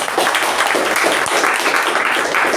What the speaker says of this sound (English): she deserves another round of applause